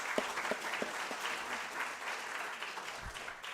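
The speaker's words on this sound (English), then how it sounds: "let's give them a round of applause" An audience of college students applauds, a fairly quiet, steady patter of many hands clapping at some distance, with a few sharper claps standing out.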